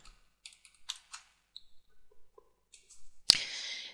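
Java code being typed on a computer keyboard: a sparse run of quiet, separate keystrokes over a few seconds, then one sharp, louder key strike near the end, with no talking.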